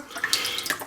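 Water trickling from a pipe onto the floor during a small kitchen flood, a light splashy dribble with a few brighter drips, close by and fairly quiet.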